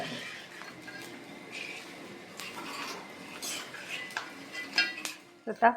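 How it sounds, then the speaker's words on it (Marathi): Edible gum (dinkache ladoo ingredient) being fried in a kadhai and stirred with a metal spoon, giving repeated clinks and scrapes against the pan over a soft background sizzle, with louder clatter near the end. "आता याच पद्धतीने आपलं आपण सगळ्या डिंक तळून घेऊया"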